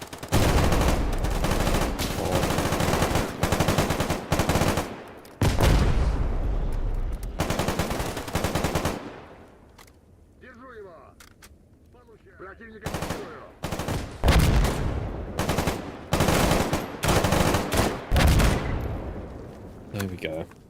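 Loud bursts of automatic gunfire in STALKER GAMMA, with long rattling volleys that break off into a quiet pause of several seconds before heavy shooting starts again, in close, sharp clusters.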